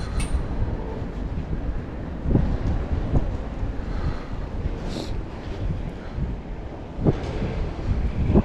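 Heavy, very cold wind buffets the microphone outdoors, a constant low rumbling roar with gusty surges throughout, and no talking.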